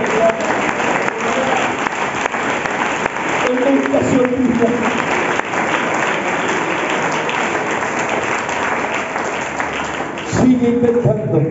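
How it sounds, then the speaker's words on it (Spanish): A church congregation claps together during a sermon, sustained applause filling the space steadily for the whole stretch while voices rise briefly over it. "Aplauda a Jesús en esta vida."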